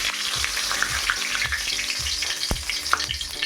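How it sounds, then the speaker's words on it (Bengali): Potatoes and a bay leaf fry in hot oil, a close, continuous sizzle with scattered crackles and a sharp utensil clack, without voices. "তেলটা গরম হয়ে গেছে। আমি এবার আলু কটা ভেজে নেব। শুধু দেবো তেজপাতা,"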